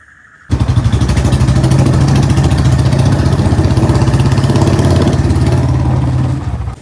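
A motorcycle engine fires up after a moment of quiet and settles into a steady, loud, throbbing idle close by, running evenly before cutting off at the end.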